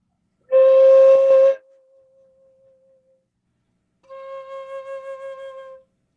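Low-octave flute notes with a deliberately weird, out-of-tune quality: a loud breathy tone for about a second, a faint lingering pitch, then after a pause a softer wavering sustained note, played solo in a masterclass.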